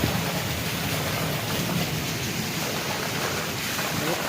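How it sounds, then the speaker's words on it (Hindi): Heavy rain pours outside in a dense, steady wash of noise, loud and unbroken the whole time, with no one speaking. "बहुत तेज़ बारिश हो रही है।"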